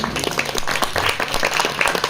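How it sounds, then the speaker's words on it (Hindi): Applause from an audience at an Urdu poetry recital (mushaira), a steady dense wash of clapping filling the hall for a couple of seconds, loud and close with no voice over it. "एक बार जोरदार तालियां या हाथ उठा के दुआएं दे दें"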